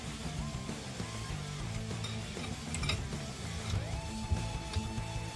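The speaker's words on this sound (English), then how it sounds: "I'm just going to quickly wind the piston back in the caliper just to get the clearance to fit the new pads" A rear brake caliper piston on a Honda Beat is wound back with a manual winding tool turned by a jack handle, giving steady mechanical ticking and ratcheting clicks with faint squeaks, close and continuous, with no talk.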